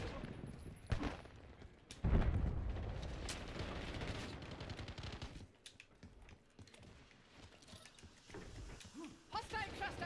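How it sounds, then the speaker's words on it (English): Light machine gun fire in a video game sounds out in bursts of rapid shots, with a heavy volley near the start and scattered blasts after, mixed with game noise and a talking voice. "Whatever gun he's using, it's got to be LMG."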